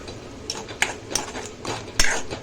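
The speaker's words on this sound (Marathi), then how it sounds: "गरम मसाला परत एकदा चांगलं मिक्स करून घेऊया" A metal spoon scrapes and clinks against a pan while red chilli powder, garam masala and salt are stirred into oil for a Maharashtrian pomfret gravy; several sharp, close taps come at irregular moments over a soft scraping bed, with no talking.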